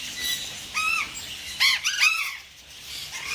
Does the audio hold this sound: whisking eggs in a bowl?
no